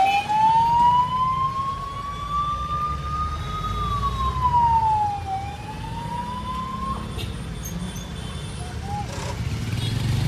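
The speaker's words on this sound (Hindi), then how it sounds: "यहाँ पे पुलिस की गाड़ी जा रही है।" Police car siren wailing along a main road in Siliguri, its rising and falling tone sweeping loudly over steady traffic rumble for several seconds before cutting off.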